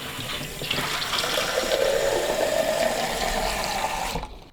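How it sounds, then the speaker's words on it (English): Water is poured out of a L'OR Barista Sublime Compact coffee machine's tank and the tank is refilled at a tap, giving a steady, fairly loud running and splashing rush for about four seconds before it cuts off. "we're going to empty out this water and we're going to fill it with fresh drinking water."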